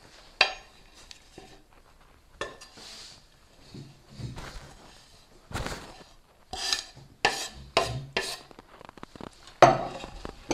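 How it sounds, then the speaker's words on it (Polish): Chopped garlic scraped and tipped from a knife or board into a bowl while making a simple garlic and parsley sauce, heard as a run of close, irregular rasping scrapes and light clatters. "I wyrzucamy teraz posiekany czosnek."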